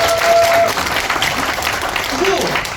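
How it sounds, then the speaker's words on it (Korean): Audience clapping at a health product seminar in a hall: a brief burst of steady applause from the crowd with some voices mixed in. "박수 한번 쳐주세요."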